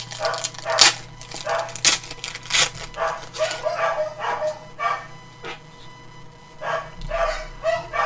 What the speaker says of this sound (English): I apologize if you hear my dogs barking.